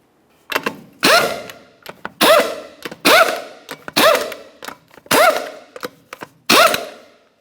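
An impact wrench snugs the 21mm lug nuts on a 2004-2005 Nissan Titan front wheel: about seven close, loud rattling bursts, each with a rising whine, separated by short pauses.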